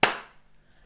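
A single sharp hand clap rings out close and loud at a sensory music session, then decays quickly into near silence with no voices.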